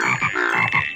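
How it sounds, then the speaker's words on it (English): Frogs croak together in a video game chorus, a quick burst of several rhythmic, overlapping croaks at a steady moderate level with no voices. "Click this button with the plus sign to add frogs to the chorus."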